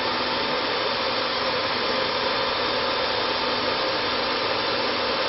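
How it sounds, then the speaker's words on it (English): An electric motor spins fast at 50 Hz on a VFD inverter, giving a loud, constant whirring hum with no change or break and no voices. "the frequency is increasing from 0 to 50 hertz. The motor is running fast."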